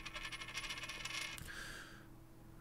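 Coins clink and jingle as they drop in the resistance strategy game Through the Darkest of Times, a bright rattling cascade that fades into quiet.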